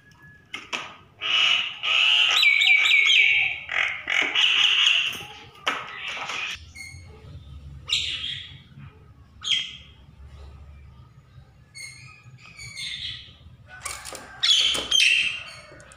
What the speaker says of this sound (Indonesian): Burung jalak jantan lebih aktif berkicau daripada betina.